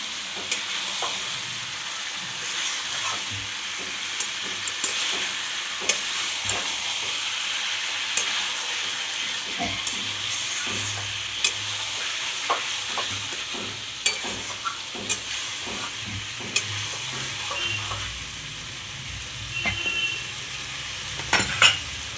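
Fried katla fish pieces stirred into a sizzling curry in a pan, a continuous hiss of frying with frequent spoon scrapes and clinks against the pot, close and steady for a long stretch.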